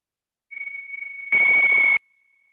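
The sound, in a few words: meditation timer bell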